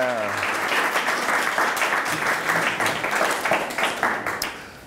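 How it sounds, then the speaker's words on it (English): A crowd at a Startup Grind Vilnius event applauds steadily for several seconds, the clapping dense and even before tapering off at the end, with a voice briefly audible at the start. "Everybody, a nice round of applause for Linas."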